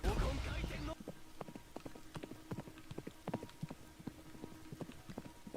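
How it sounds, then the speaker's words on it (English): Horse hooves clip-clop in the Deepwoken video game, a steady run of crisp, evenly spaced clops after a brief loud burst at the start, heard without speech. "There's a horse in here."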